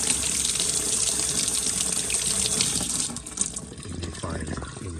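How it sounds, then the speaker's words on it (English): Cold tap water runs steadily over a small mesh inlet filter from a Rheem tankless water heater held in a sink, a loud continuous splashing rush that eases and changes slightly near the end. "Run it under the sink."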